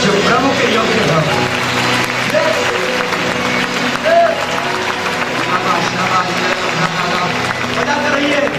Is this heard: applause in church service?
yes